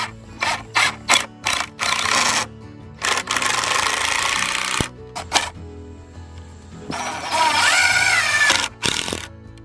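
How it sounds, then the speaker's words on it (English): Screws being driven into a wooden duck coop frame with a power driver, several loud whirring bursts of varying length separated by short pauses, the driver ratcheting and winding down between screws. "now he's going to go ahead and put in his screws"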